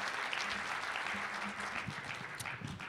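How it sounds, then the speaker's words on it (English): Steady, dense audience applause at a conference plenary session in Tucson, a continuous wash of many hands clapping that holds for the whole stretch. "Let's give a round of applause for Steen Rasmussen."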